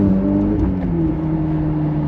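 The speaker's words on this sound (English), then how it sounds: "far, far superior sound in the exhaust of this car" Close, steady engine drone and exhaust note from a Ferrari 488 GTB, a sustained tone held without revving up or down.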